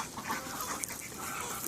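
Several ducks quack in a flooded village beside a waterlogged road, a faint, busy chatter over steady background noise.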